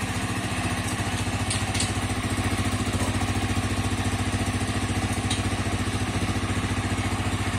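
A 2021 Honda Fan 160 motorcycle with a Polimet tin exhaust idles steadily and close by, its low exhaust putting out an even, rapid pulsing throughout with no voices.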